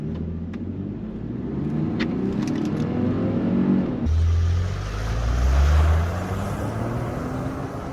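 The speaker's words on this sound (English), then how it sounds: "I was about half throttle, and it was very slow off the line" A 2021 Ford Expedition XLT with the 3.5 liter engine accelerating at half throttle from a standstill, a loud rising rumble heard from inside the cab that swells and eases with a change partway through.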